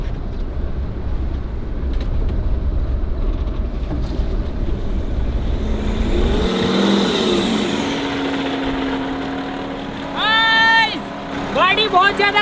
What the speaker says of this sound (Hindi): ये गाड़ी स्टार्ट हो गई।